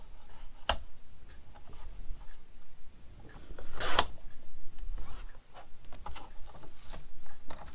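Paper being cut for a craft page, a run of close scratchy rasping strokes with a few sharper snips and rustles along the way, no talking.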